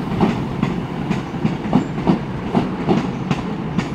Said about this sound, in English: Clunking over the points there as it goes onto the right line